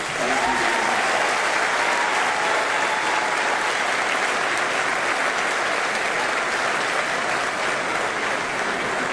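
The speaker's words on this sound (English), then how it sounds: "another round of applause for your mayor, Sylvester Turner" Sustained, dense audience applause for Houston Mayor Sylvester Turner at his final State of the City address, loud and unbroken from start to finish.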